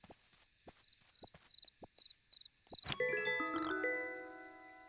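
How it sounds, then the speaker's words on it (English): In the video game Dinkum, crickets chirp in short regular bursts, followed by a brighter chiming jingle that rings out and slowly fades, all fairly quiet with no talking. "Crickets and black crickets make different sounds."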